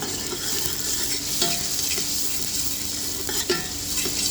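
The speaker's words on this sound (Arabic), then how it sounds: "هنروح نقلبها برضو كده زي ما انتوا شايفين كده مع البصل، نشوحها معاها" Onion and garlic sizzle steadily in hot oil, with occasional scraping stirs of a utensil against the pan.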